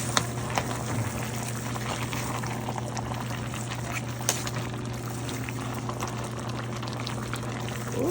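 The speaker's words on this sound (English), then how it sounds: "I'm gonna mix this up" Shrimp and sea snails simmer in coconut milk for ginataan na hipon, giving a continuous bubbling, liquid churn while being stirred, with faint soft knocks now and then.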